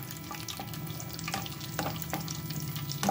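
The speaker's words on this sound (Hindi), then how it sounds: "ड्राई फ्रूट इसमें भून लूंगी।" Dry fruits roasting in a pan for moong dal halwa, giving a soft, low crackle and sizzle with a few light scrapes of a spatula, faint and close, with no voices.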